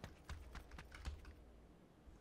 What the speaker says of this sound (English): Keyboard's making noise.